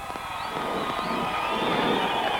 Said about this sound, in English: Everybody, big round of applause.